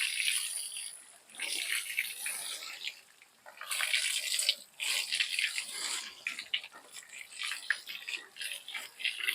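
Water sprayed from a hose onto a dog named Luzzy to cool her down in summer heat, a steady hissing spray with uneven bursts and pauses, close by.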